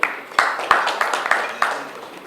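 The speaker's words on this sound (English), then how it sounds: "Another round of applause for our CEO" Scattered claps from an event audience honouring a company CEO, sharp individual hand strikes at irregular intervals rather than a full ovation, fairly close and with no talking over them.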